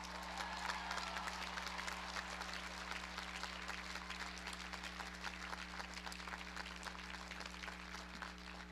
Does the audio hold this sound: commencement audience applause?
yes